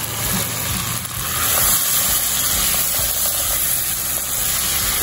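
Chopped large tomato and shelled peas sizzle in hot oil with spices in a pan for a cauliflower and potato curry, a steady, loud, close hiss with no pause.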